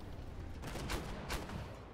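Tank cannon shots in the online game Armored Warfare, two heavy booming blasts close together amid a dense rumbling battle backdrop.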